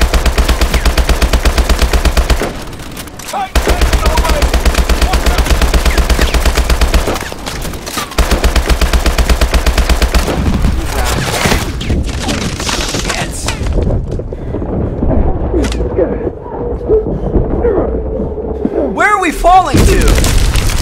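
Grenade blasts and rapid gunfire in the Call of Duty: Advanced Warfare campaign mission Crash, a loud, dense wash of shots and booms with brief lulls, thinning near the end into scattered impacts and rising tones.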